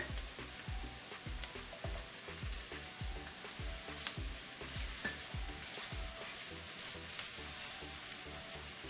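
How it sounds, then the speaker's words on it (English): Ginger frying in a pan with onions for Punjabi-style mustard greens saag, a steady close sizzle with regular scraping stirs of a spoon against the pan. "We're just going to fry for a little while. We'll add ginger."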